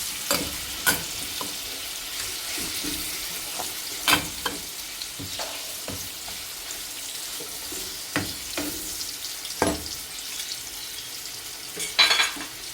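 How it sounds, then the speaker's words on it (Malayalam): Fish frying in a pan for pulao, a soft continuous sizzle broken by scattered sharp clicks and scrapes as pieces are moved or turned, fairly quiet and with no talk. "ഈ മീനൊന്ന് പൊരിച്ചെടുക്കാം."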